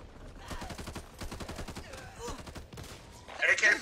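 Rapid bursts of AK-47 automatic fire in the Back 4 Blood zombie shooter, with speech from players in the mix and a louder, denser volley near the end.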